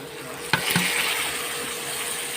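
Spice paste going into a hot kadai, a sharp splash followed by a steady, close sizzle that holds to the end.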